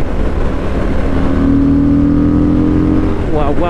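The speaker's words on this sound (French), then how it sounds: "on a une moto qui fait du bruit, qu'on entend" A Harley-Davidson Fat Boy motorcycle pulls hard in third gear around 3200 rpm, its loud, close engine note rising into a sustained drone before easing off.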